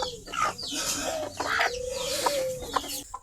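A hen, weakened and being fed a mix of maize and feed on a small farm, gives a run of close, repeated clucks over about three seconds, with a few rising calls and no talking.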